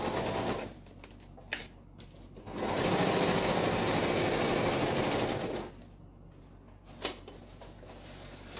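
Sewing machine stitching the outer fabric of a folding pencil case, a steady close rattling run of about three seconds framed by quieter handling clicks and pauses.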